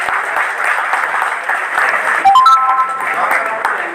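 A crowd at a political rally for an independent candidate's office opening applauds steadily, with a short run of bright electronic pings or ringtone-like notes cutting in partway through.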